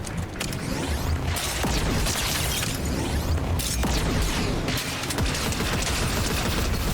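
Dense bursts of rapid Fortnite video game gunfire crackle continuously, with sharp shots and clattering mechanical noise layered throughout.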